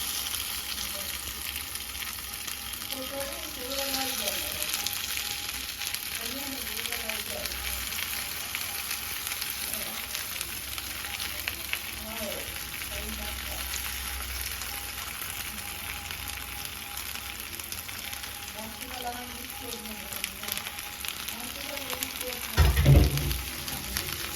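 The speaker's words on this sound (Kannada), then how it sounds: "ಸೊ ಇವಾಗ ನಾವು ಫಿಶ್ನ ಹಾಕ್ತಾ ಇದ್ದೀವಿ. ಒಳ್ಳೆ ಘಮ ಘಮ ಅಂತ ಪರಿಮಳ ಬರ್ತಾ ಇದೆ ಬಿಕಾಸ್ ಆಫ್ ಕೊಕೊನಟ್ ಆಯಿಲ್." Fish fries in coconut oil in a pan, a steady soft sizzle and crackle lasting throughout, with faint stirring or scraping and a brief clunk near the end.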